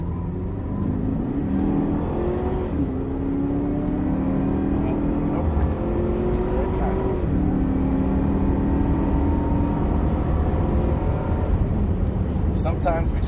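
Cadillac CTS-V Coupe accelerates on the Circuit of the Americas race track, a steady loud engine drone with rising pitch sweeps as revs climb, continuous throughout with someone talking over it.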